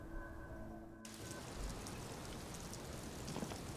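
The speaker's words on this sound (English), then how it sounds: "Just like sitting out here in the rain." Steady rain falls outdoors in the video game Disco Elysium, an even, dense patter that takes over after a short tonal passage fades out at the start. No one speaks.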